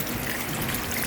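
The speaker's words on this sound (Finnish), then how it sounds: "Nyt on tullut aika hyvin vettä jonkun aikaa." Rainwater flows steadily into a newly installed stone drain well fed by downpipes, a continuous close trickling gush with no voices over it.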